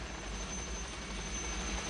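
Steady, continuous helicopter rotor and engine drone, even and unbroken throughout, heard from inside or close by.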